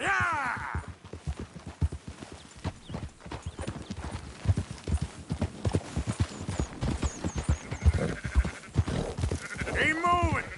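Sheep bleat repeatedly while a flock is herded on horseback in the video game Red Dead Redemption 2, with clip-clopping hooves, a horse whinny and brief shouted voices over the steady movement.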